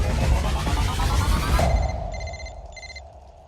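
A telephone rings in a scene from the Telugu film Super Over, with repeated electronic trilling bursts that stand out clearly as the background noise fades.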